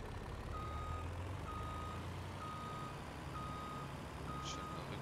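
A reversing vehicle in Farming Simulator 22 beeps five times in an even rhythm over a steady engine rumble.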